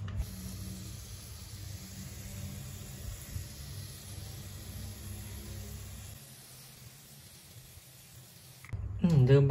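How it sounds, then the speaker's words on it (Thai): Water sprayed onto freshly sown Pseudolithos harardheranus seeds and potting soil gives a soft, steady hiss for about six seconds, then stops, followed by a short handling clatter close by. "แล้วก็ฉีดน้ำ"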